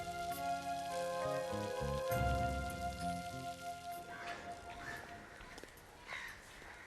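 Rain falling outdoors, a soft continuous patter under a low steady hum, with a sharper burst of drops and splashes in the latter half.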